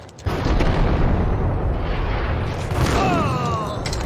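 Close-range shotgun blast in Max Payne, a loud booming burst at the start followed by a long, heavy rumbling tail with faint whistling tones near the end.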